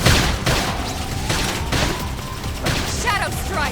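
Gunfire in the video game Xenoblade Chronicles X, a dense barrage of shots and booms layered over busy battle effects and music, loud and continuous throughout with no gaps.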